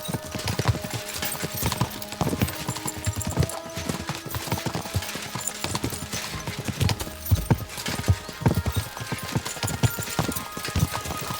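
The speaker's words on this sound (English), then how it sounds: "We should spur the horses on." Horses gallop in the Kingdom Come: Deliverance II video game, their hooves giving a dense, steady clip-clop rhythm throughout, loud and close, with no speech over it.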